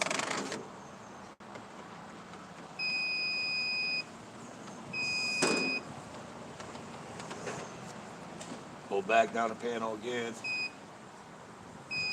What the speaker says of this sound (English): It's beeping right there.